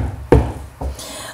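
Two hand claps along to the children's song "If You're Happy and You Know It", a sharp loud clap followed by a softer one about half a second later, with no singing over them.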